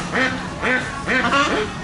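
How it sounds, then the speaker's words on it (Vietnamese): Ducks in poultry cages at a Vietnamese Tet market quack loudly and close by, several nasal calls in quick succession. "Đây là những cái lồng chứa những con vịt và những con gà."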